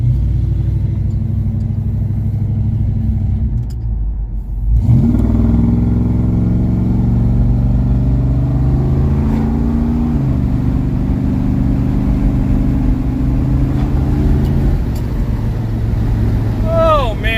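A square-body Chevy C10 pickup with a 454 engine rumbles steadily on a new exhaust, its exhaust note rising as it revs and shifts, loud and close, with no clear talk over it.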